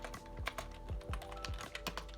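A computer keyboard clacks under steady typing as a pip install command is entered on a Windows PC, with a quick, uneven run of close, crisp keystrokes and no voices.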